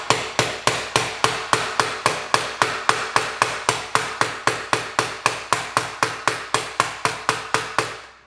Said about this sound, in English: it requires a little bit of hammering